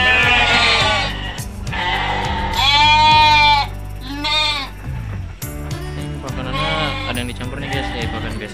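Garut sheep bleat repeatedly at a livestock farm in Bogor, loud close wavering calls overlapping one another, with someone talking intermittently between and under the animal cries.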